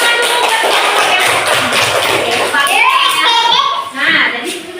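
Schoolchildren in a classroom clap for their classmates, a quick patter of hands at the start that gives way to a child's and a teacher's voices talking.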